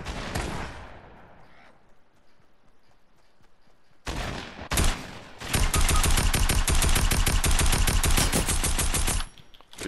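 Fortnite gunfire: a short opening burst, a quieter lull, then a dense sustained volley of rapid automatic shots, loud and close, that stops abruptly near the end.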